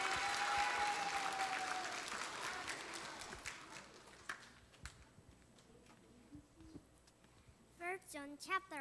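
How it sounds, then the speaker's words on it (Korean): A church congregation at a Sunday morning service applauds a child for about four seconds, the clapping thinning out and fading, then a lone voice starts speaking over the quiet hall. "한 번 더 큰 박수 한번 부탁드리겠습니다"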